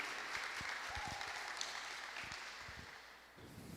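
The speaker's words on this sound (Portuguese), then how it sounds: "Salve de palmas para a vida deles" Congregation applause during a church service, soft and somewhat distant clapping from a group that gradually thins out, with a few louder close thumps mixed in.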